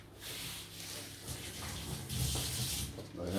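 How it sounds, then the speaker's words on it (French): Water runs steadily from a kitchen tap as hands are rinsed while making a Christmas pudding, a close, continuous splashing hiss with no talking. "Je vais me rincer les mains."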